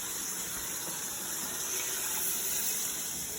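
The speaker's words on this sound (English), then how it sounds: "I'm going to start out with 8 cups of water right now." Water pours steadily into a cooking pot for minestrone soup, a loud continuous rushing gush with no talking.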